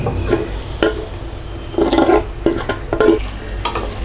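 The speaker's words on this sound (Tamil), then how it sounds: "இப்போ வந்து நம்ம ஊற வச்சுருக்கிற சிக்கனையும் போட்டுக்கலாம்." Marinated chicken tossed into hot oil with cooked-down tomatoes for chicken biryani, with a steady sizzle and repeated scraping stirs of a spoon against the pan at a close, even rhythm.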